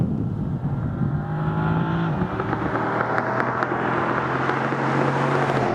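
A Dodge Charger SRT with its 6.4-liter engine accelerating hard, a loud, steady engine roar rising in pitch over several seconds with no talking.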